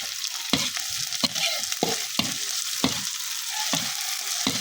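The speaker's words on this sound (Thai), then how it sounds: "คั่วอันนี้ให้มันหอมๆเนาะ" Shallots stir-fry in a hot pan with steady broadband sizzling and repeated sharp scrapes of a spatula or ladle at a loose rhythm. The stirring sounds close and fairly loud, with no one talking.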